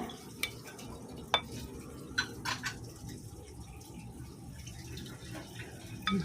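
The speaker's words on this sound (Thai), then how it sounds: "เราก็เอาจานมาตักเสิร์ฟได้เลยค่ะ" Spicy Thai mackerel salad with herbs being scooped onto a plate, with soft stirring and clinking scrapes standing out as a few sharp taps over a low, steady background.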